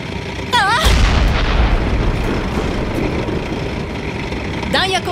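A tank cannon fires in the video game Panzer Knights, one loud, heavy blast followed by a long rumbling decay over a droning engine, with voices speaking before and after.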